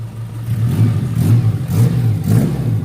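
A 2004 Suzuki Espass Zebra ZL engine warms up after a fuel pump replacement, a close, low idle with rhythmic pulses of light revving roughly every half second, steady and alone without talk.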